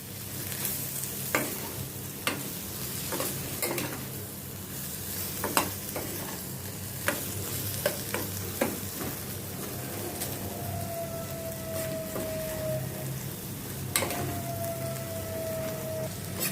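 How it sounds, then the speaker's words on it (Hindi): Okra masala fries in a pan under continuous stirring, a steady soft sizzle broken by regular spoon scrapes and taps against the pan, with a faint whistle-like tone near the end and no talking. "इसको कंटिन्यूस स्टर करते रहने का है ताकि नीचे तले में मसाले लगे नहीं और जले नहीं।"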